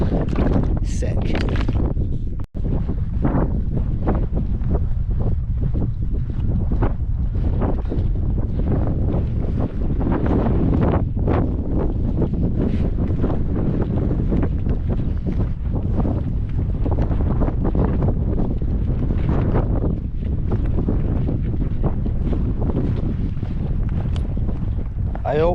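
Strong wind buffets the microphone on a Northumberland hillside during a solo hike, a loud, continuous roaring gust noise that fills the whole stretch with little variation.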